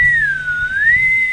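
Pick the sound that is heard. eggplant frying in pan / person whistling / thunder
person whistling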